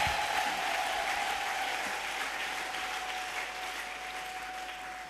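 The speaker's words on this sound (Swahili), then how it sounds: "Tuwape makofi watoto wetu." A church congregation claps for the children's praise team and choir at a Sunday service, the applause steady and full throughout with no speech over it, then thinning slightly toward the end.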